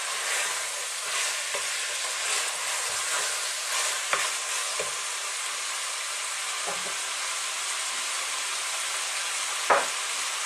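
Smoked sliced bacon frying in a pan gives a steady, bright sizzle throughout, with a few faint knocks and scrapes from stirring and no talking.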